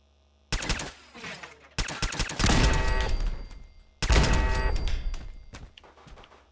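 Turret gunfire in Fallout 4 comes in three loud bursts of rapid shots, each breaking off abruptly after a brief pause before the next volley, sharp and close with ringing metallic tails.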